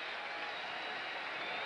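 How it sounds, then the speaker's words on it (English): Stadium crowd at a 1980s pro football game breaking into a round of applause for a returning player, steady broadband clapping and cheering throughout, fairly distant and even. "White gets a round of applause."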